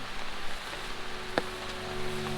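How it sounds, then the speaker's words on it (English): Steady rain falls outdoors, a soft continuous hiss of drops with one brief sharper tap partway through and no voices. "It's raining, it's pouring,"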